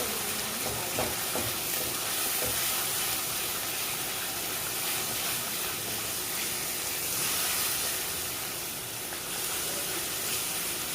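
Masala mixed with yogurt is stirred briskly in a hot pan for a paneer and green pea gravy, giving a steady, dense sizzle and hiss with faint scraping throughout, close and continuous with no talk.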